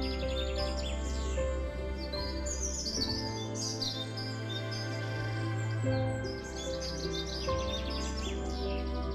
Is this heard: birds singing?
yes